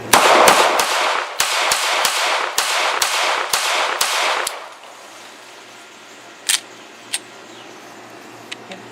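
Walther PPQ Compact pistol fired with a compact magazine, about eight rapid loud shots in a steady string outdoors, then a few faint distant pops after a pause, with no voices.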